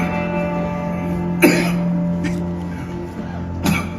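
A man coughs in the middle of an acted scene, a sharp close burst followed by a couple of lighter coughs over a steady background hum.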